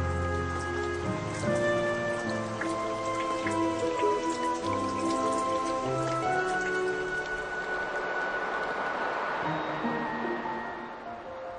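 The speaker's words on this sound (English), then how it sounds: "but life-giving rain" Steady rain patters on leaves and ground in a forest, a dense continuous drizzle of drops with no voices, fairly close and even throughout.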